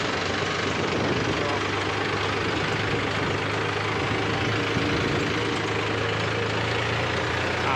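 A low tractor engine idles steadily with a constant rumble, mixed with broadband outdoor noise throughout.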